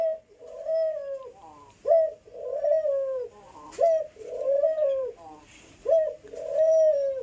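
Three doves kept in a cage coo in repeated soft, rolling calls, close by and clear, in a regular rhythm of about one call per second with short pauses between phrases.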